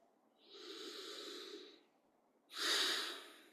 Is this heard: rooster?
no